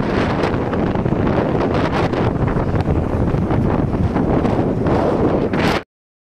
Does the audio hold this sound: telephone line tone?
no